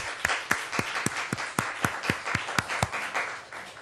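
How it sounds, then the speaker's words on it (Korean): Congregation clapping during a Sunday praise worship service at a Korean church: a short run of distinct, fairly regular claps that sound close, crisp and moderately loud, with no talking over them. "우리 영광의 박수 올려드릴까요?"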